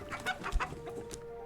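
A chicken clucks in the video game Book of Hours, a quick run of short, close clucks followed by a softer trailing note, with no speech.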